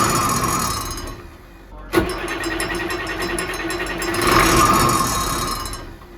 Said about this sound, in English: I'll spin this engine over